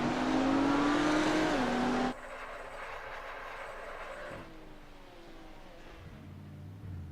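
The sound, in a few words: GT3 race car engine revving, from a racing video game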